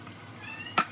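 A pet cat in a home kitchen gives a single short meow near the end, faint and a little distant, after a can of diced tomatoes is opened during soup cooking.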